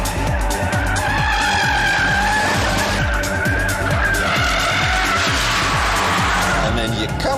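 Tyres of a Saab 9-5 Aero skid and squeal through a corner, a loud sustained screech over a roaring engine, continuous for several seconds.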